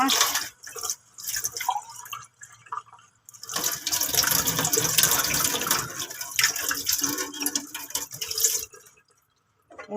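Running tap water splashes and trickles over a feeding syringe used for tube-feeding a patient as it is rinsed in a sink, with bursts of flow between pauses and some brief talk early on.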